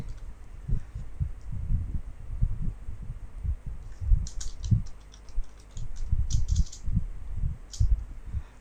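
Typing on a computer keyboard, soft clusters of key taps coming in irregular bursts with short pauses, close and fairly quiet, over a low hum.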